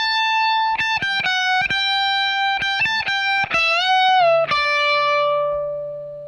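A lead electric guitar plays the lick: a clean sustained tone broken by quick picked notes and bends, settling into a long held, slowly fading final note, played solo and up close.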